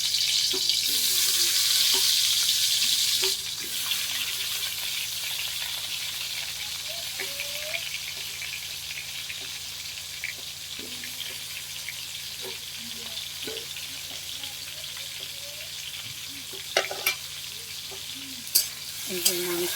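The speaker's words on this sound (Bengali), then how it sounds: "মাংসের এই যে আলুগুলোকে ভালো করে ভেজে নেবো" Potatoes fry in hot oil for a meat curry, a steady close sizzle that is loudest at first and then settles, with scattered stirring clinks, a few brief scrapes near the end and faint voices in the background.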